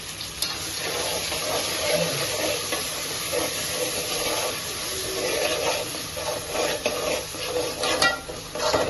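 Coconut, onion, garlic, ginger and green chilli masala sizzles and fries steadily in a pan, a continuous hiss with scraping stirs throughout, close and fairly loud, no talking.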